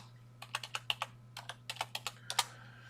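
Password typed on a computer keyboard, about fifteen crisp keystrokes in short uneven bursts, close and fairly quiet over a low steady hum.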